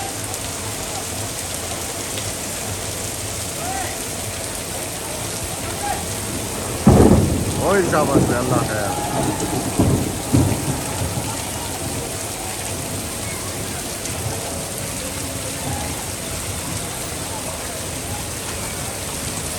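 Heavy rain pours steadily throughout in Tando Allahyar, with a loud thunderclap crackling and rumbling midway; a voice calls out briefly near the thunder.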